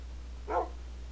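A dog lets out a single short, muffled bark, faint and somewhat distant over a low steady hum with no talk around it.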